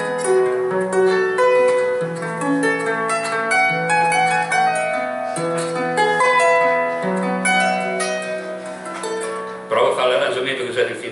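North American country folk song from a Coen brothers film, a sung melody over acoustic backing with a steady strummed accompaniment, full and fairly loud throughout.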